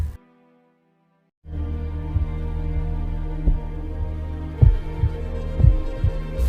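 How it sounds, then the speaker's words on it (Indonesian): Deep, muffled heartbeat thuds, a film sound effect of two hearts beating in unison at night, starting after a brief silence and pulsing slowly and steadily with a low hum behind them. "Reizo yang mendengarkan detak jantung Kiriko seirama dengan detak jantung Reizo"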